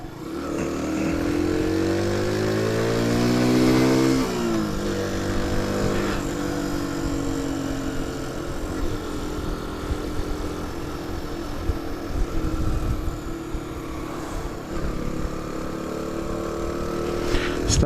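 A Sinnis Trackstar 125cc motorcycle, a 2015 model, ridden on roads around Sussex, its small single engine droning steadily with a rising then settling pitch as it shifts, plus wind noise, heard continuously close up.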